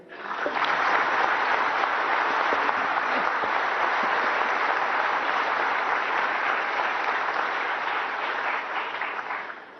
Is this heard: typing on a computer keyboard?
no